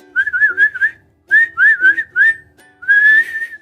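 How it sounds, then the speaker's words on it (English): A person whistles for a dog during a tabletop role-playing game session, in three rising-and-falling bursts of clear, close, melodic whistling with short pauses between. "He's trying to whistle for the dog."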